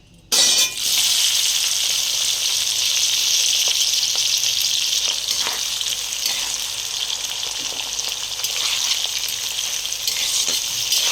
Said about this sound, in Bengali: পেঁয়াজগুলো একটু লাল লাল করে ভেজে নেব